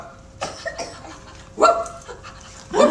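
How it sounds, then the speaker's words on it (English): Dog yipping and barking in a few short, sharp bursts, close by, with a louder bark near the end. "Come on, George, bark"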